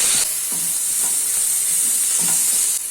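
Onion and garlic paste sizzles steadily in hot oil, a loud continuous frying hiss with a few soft stirring scrapes underneath.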